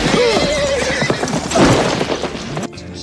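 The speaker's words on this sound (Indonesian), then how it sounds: "Sebuah tembakan mengenai kuda Dapey hingga ia terjatuh dan terjepit" A horse whinnies loudly and shrilly after being shot, its neigh wavering over a few seconds amid commotion and hoof noise as it falls, then cuts off abruptly.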